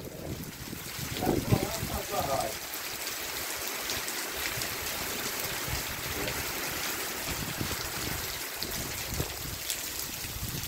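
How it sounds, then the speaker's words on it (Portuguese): Steady broadband hiss of light rain falling continuously, with a voice speaking briefly near the start. "é chuvinha de criar água de barragem"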